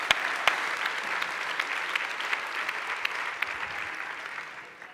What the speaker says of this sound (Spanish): Si aplaudís después de cada buena intervención, os van a doler las manos.